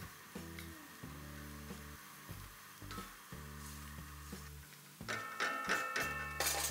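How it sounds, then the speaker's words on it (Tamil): A spiced masala mixture for bindi do pyaza simmers in groundnut oil in a pan, soft bubbling pops and clicks in irregular rhythm with gentle sizzle rising louder near the end. "இந்த மசாலாஸ் எல்லாம் நல்லா கொதி வந்துருச்சு"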